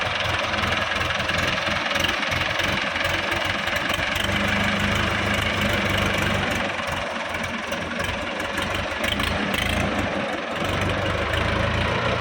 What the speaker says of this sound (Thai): เดี๋ยวจะลองสตาร์ทให้ดูนะครับสตาร์ทแล้วก็จะลองวิ่งให้ดู